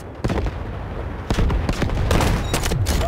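An artillery barrage in the video game Delta Force, with a dense run of heavy booms and rapid gunfire bursts close by, sharp impacts piling over a constant low rumble for about three seconds.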